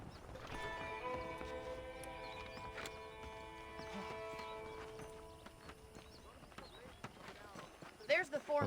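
Horse hooves in the video game Red Dead Redemption, rhythmic clip-clop of saddled horses with a whinny, accompanied by a sustained musical tone and people talking, fading to scattered sharp hoof strikes near the end.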